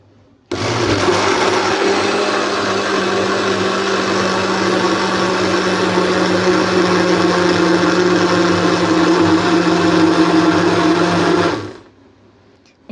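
A YUI three-piece blender set runs steadily at close range for about eleven seconds with a loud, even motor whine, then winds down as it is switched off; no talking.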